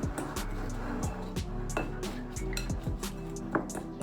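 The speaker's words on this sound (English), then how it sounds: "Mix the butter with the sugar" Butter and sugar being mixed in a bowl for banana bread: a utensil clinks and scrapes against the bowl in a steady rhythm, with soft squishing between the close, bright taps.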